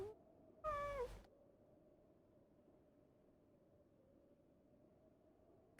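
A single cat meows once, a short clear rising-falling call near the start, followed by quiet room tone.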